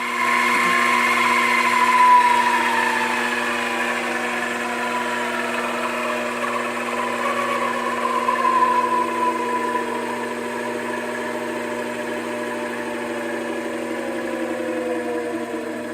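A Grizzly G0765 7x14 benchtop mini lathe runs steadily through its break-in, a constant motor whine with layered tonal hum that drifts slightly in pitch, close and alone with no talking.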